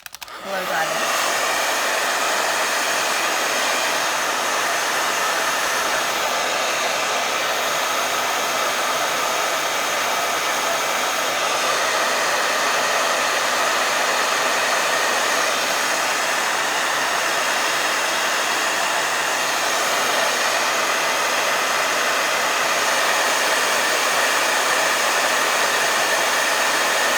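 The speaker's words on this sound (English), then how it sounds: "let me blow dry this." A hair dryer blows steadily on fresh paint on a wooden door hanger, switching on at once and holding a loud, even, close whoosh with no pauses or talk.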